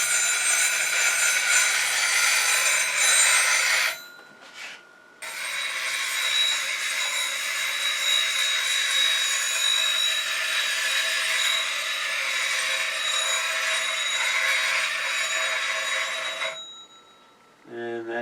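A bench grinding wheel whines steadily as a steel bowl gouge is sharpened against it, a bright grinding hiss that cuts out briefly, resumes, and then fades as the wheel slows down.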